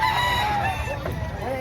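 A Boston Raptor rooster at a poultry market crows and clucks close by, a loud drawn-out call over steady crowd and market noise.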